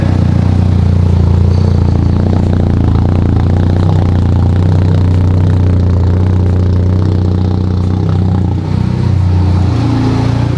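A 2021 Honda Civic Type R engine runs steadily at a low, rumbling idle with slight fluctuations throughout, close by and with no talking, just after starting with the exhaust fitted.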